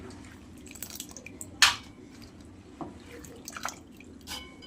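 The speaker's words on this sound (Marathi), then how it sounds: "एक दोन तीन पाण्याने धुवून घेऊयात" Moth beans (matki) are washed in water in a bowl: soft, sporadic drips and small splashes, quiet overall, with one sharper splash near the start.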